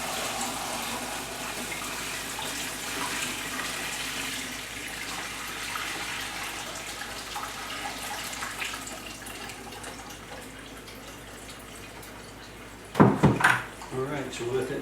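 Homemade peach wine drains from a fermenting tank into a 5-gallon bucket, a steady close trickle of pouring liquid running throughout, ending with a few louder splashes and clunks near the end.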